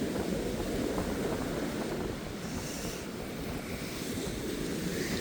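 Ocean surf rolling onto a Florida beach at night under a full moon, with high water and strong wind; a steady, broad wash of waves with wind noise across the microphone, continuous and fairly loud, no talking.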